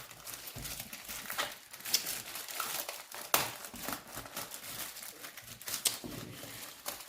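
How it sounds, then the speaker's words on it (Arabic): A package holding a first-year secondary chemistry book is torn open by hand without scissors, giving repeated rustling, crinkling rips and crackles close up at an uneven rhythm. "تعال نفتح الاوردر ده عشان نشوف المذكرة عاملة ازاي"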